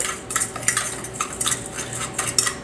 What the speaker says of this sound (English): we're going to go ahead and just kind of mash this up, mix it all together